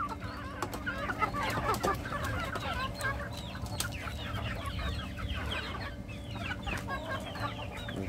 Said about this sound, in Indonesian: entok dan ayam.